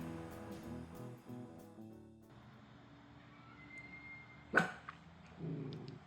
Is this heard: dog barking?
yes